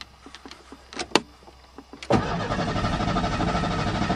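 A Ford Thunderbird that has sat for five years gives a few light clicks and knocks, then its engine cranks with a sudden loud, steady whirring drone that continues close by.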